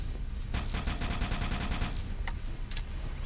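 Rapid automatic gunfire in Halo, a loud burst of evenly spaced shots lasting about a second and a half, followed by a couple of isolated single shots.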